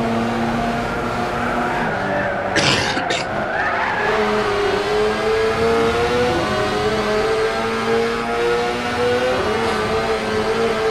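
A Super GT race car engine at Motegi in the video game Gran Turismo 6, a loud steady drone with shifting pitch as the car runs through a corner, a brief burst of tire noise near the start, no talk over it.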